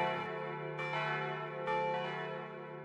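Monastery church bells of the Poor Clares at Ronchamp ring out across the countryside in slow, resonant strikes, each tone lingering over a sustained hum, heard from a distance with no voices.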